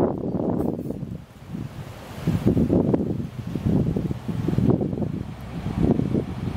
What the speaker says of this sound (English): I cannot cope with the wind.